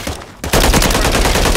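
Loud, close automatic gunfire in Call of Duty: Modern Warfare III on the Sub Base map, a quick burst and then a steady rapid stream of shots that runs without pause to the end.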